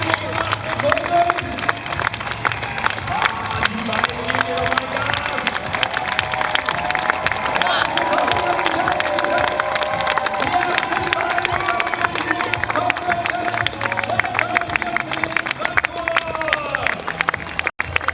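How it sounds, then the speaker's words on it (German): Spectators at the finish of the JP Morgan Corporate Challenge run in Frankfurt clap and cheer continuously, a busy crowd roar with sharp claps and whistles while an announcer talks over it. "Und dann den dicken Applaus!"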